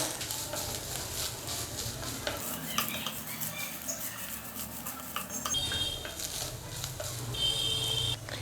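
Turmeric and chili powder frying in hot oil for egg thoran, a steady busy sizzle with occasional stirring clinks throughout, no talking.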